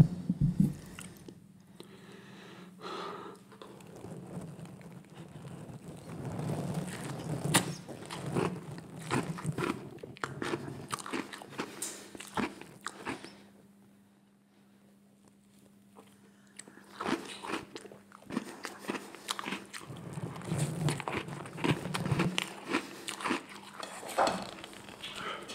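Close, crunchy bites and wet chewing of rainbow cake, coming in steady bursts that pause briefly around the middle before the munching resumes, with no talking.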